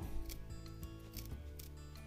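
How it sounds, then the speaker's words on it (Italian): Scissors snip through a small piece of roller shutter strap on a smart motorized shutter, giving a few short, close cutting clicks over a steady mechanical background hum. "prendete le forbici e andate a tagliare un pezzettino qui per fargli una soletta"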